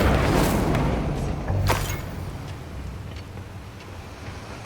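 An Incendio fire spell is cast in Hogwarts Legacy, a rushing whoosh of flame with a booming burst, followed by a fading roar and crackling amid game ambience.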